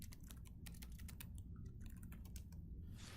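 Steady computer keyboard typing, a fast run of close, crisp key clicks with brief pauses, while someone enters field text into a property management system.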